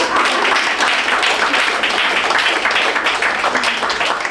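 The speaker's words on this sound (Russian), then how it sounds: "А пока за тренинг актеры получают аплодисменты зрителей" Theatre audience applauding actors after a training performance, a dense, steady roar of many hands clapping throughout at close range, with no pauses.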